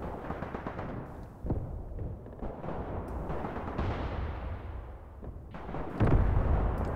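Artillery shells landing in the video game Graviteam Tactics Mius Front: a sustained roar of dense rumbling blasts, with several louder explosions and a heavy, close boom near the end.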